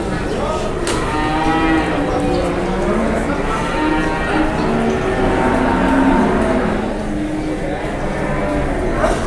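Cattle of roughly 500 kg, unloaded from a Ngudi Lembu delivery as sacrifice and breeding stock, moo repeatedly in deep, drawn-out calls, loud and close, over a constant din of a busy pen with voices underneath.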